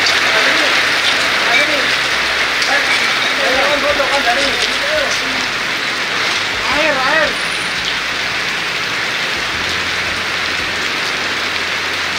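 Heavy rain hisses in a dense, continuous roar on surfaces outdoors, loud and unbroken throughout, with a few faint bird-like chirps and a low vehicle rumble briefly underneath.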